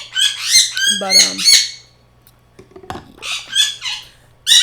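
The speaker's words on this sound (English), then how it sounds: "so seeing as this bird is going nuts, I'm going to end the video." A pet bird indoors lets out loud, close squawks and chirps in several bursts separated by a quiet gap, with a single spoken word between calls.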